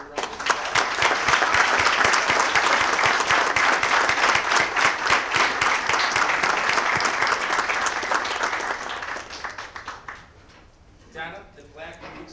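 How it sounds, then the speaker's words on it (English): A room full of people at a Dunkirk, New York common council meeting claps loudly in a sustained round of applause that tapers off toward the end, with a voice and scattered claps lingering afterward. "Ladies and gentlemen, can you please give her a round of applause?"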